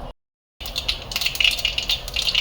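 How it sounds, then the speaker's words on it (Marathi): Mustard seeds crackle and pop in hot oil in a home kitchen pan, giving a dense, close run of sharp sputtering bursts after a short moment of silence. "मोरी तडतडली आता हिंग घालूया"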